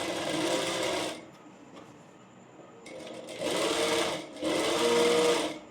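Sewing machine stitching a three-dart blouse in a tailoring class, running in two or three bursts of steady mechanical whirring with a quiet pause between, close and loud.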